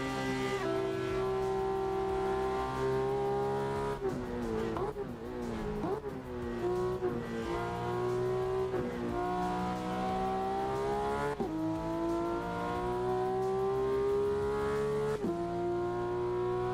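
A car drifts around the Nordschleife track in a driving video game, its engine holding a loud, steady high drone that rises and falls with revs and shifts, with tire squeal throughout.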